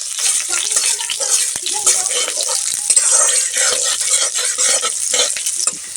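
Cumin seeds and green chilies sizzling loudly in hot oil in a home kitchen pan, a continuous crackling fry with frequent stirring scrapes, close and busy throughout.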